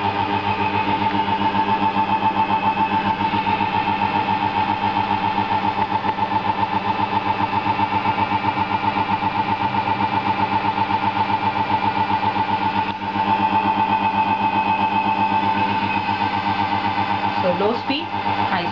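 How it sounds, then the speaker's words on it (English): A 1 HP DC motor runs steadily under IGBT chopper speed control, giving a loud, constant electric hum with tonal whine that holds throughout, with a brief pitch sweep near the end. "the 1 HP DC motor driven by IGBT driver circuit"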